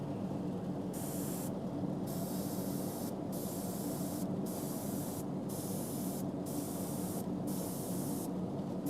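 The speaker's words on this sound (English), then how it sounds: "I'm gonna really lightly spray it over that, just to kind of blends it." Short bursts of aerosol spray paint hiss onto a crankbait fishing lure in a steady rhythm, about eight quick sprays with brief pauses between them, close and fairly loud.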